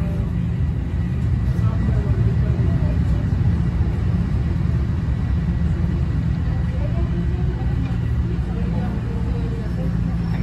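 A Toronto TTC subway train rumbles through the rail yards, a steady low roar of wheels and motors heard from inside the car, continuous and loud throughout.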